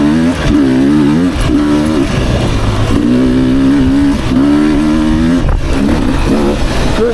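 A 2024 Beta 300RR Racing Edition motorcycle climbs a hill with a loud, close engine whose revs rise and drop in repeated pulls out of a corner, with no talk.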